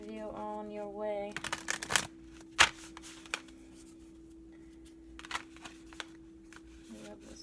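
A Starseed oracle card deck is shuffled by hand, giving a few brisk riffling and flicking bursts early on, followed by quieter scattered card handling and taps in a calm room, with a voice heard briefly at the start.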